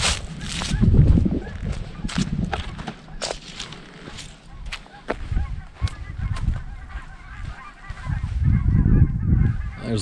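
A flock of geese honks repeatedly overhead in Nebraska National Forest at Halsey, calls overlapping in an irregular chorus, with rustling and low wind noise close by.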